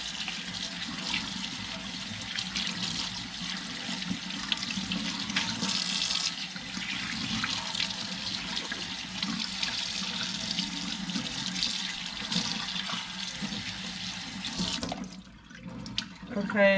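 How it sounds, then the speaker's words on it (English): Cold tap water runs steadily into a kitchen sink while raw chicken is washed for Cambodian Phnom Penh noodle soup, a continuous close splashing hiss that lasts almost to the end before cutting off. "Make sure you wash it with cold water,"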